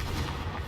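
A Confringo fire-blast spell explodes in Hogwarts Legacy, a short, dense, loud burst of booming noise like artillery fire that fills the whole moment.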